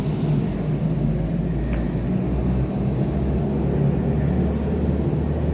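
A car drives past with a close, continuous low rumble of engine and tires. It holds fairly steady and loud across the whole stretch, with no talking over it.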